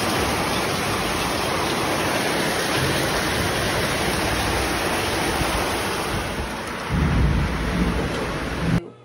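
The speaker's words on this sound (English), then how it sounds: "But it was raining so bad," Heavy rain roars steadily in a thunderstorm, a loud dense wash with a deep rumble of thunder swelling near the end before it cuts off.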